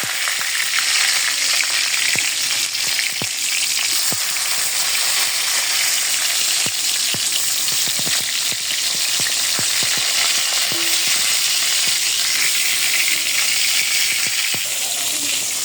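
Small fish frying in hot oil, a dense steady sizzle with crackling pops that stays loud and unbroken throughout.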